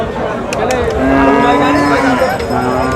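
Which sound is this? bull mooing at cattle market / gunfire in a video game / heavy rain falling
bull mooing at cattle market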